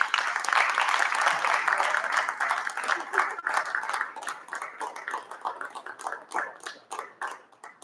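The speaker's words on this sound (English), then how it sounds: "Round of applause, please," Applause rings out for a trustee being honored at a school board of education meeting, a dense sustained clapping from a room of people that thins into scattered, individual claps toward the end.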